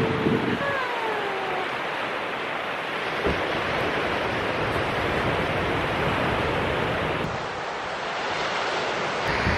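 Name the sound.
ocean waves on the shore in Guam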